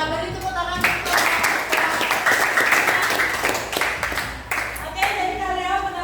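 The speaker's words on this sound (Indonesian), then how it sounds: "Ya, beri tepuk tangan." A classroom of students claps together, a dense burst of applause with voices mixed in, close and lively, fading briefly before a second swell near the end.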